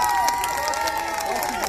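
An audience at an event in Rebecq applauds and cheers steadily, a crowd din of clapping under a prominent voice speaking over it.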